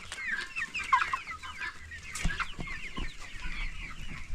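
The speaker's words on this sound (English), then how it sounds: "Look at the size of this rooster." Improved Kienyeji chickens and a rooster on a farm at seven weeks old, clucking continuously with overlapping calls, fairly close and moderately loud, with a few low thumps.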